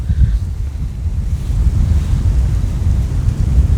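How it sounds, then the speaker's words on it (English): Strong wind gusts buffet the microphone beside a river while moored on a narrowboat in autumn, a loud steady low roar with rushing surges throughout and no talking. "Look how windy it is."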